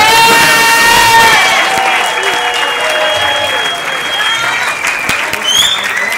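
Loud, close crowd applause with cheering voices on top, a dense sustained burst of clapping that eases slightly midway and continues to the end.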